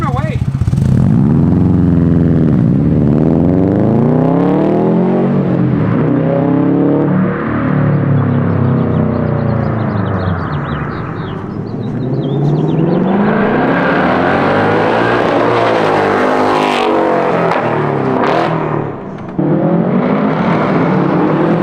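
A Subaru STi with a titanium exhaust revs loudly and close by, its engine note surging up and down repeatedly in throaty bursts before settling back to idle.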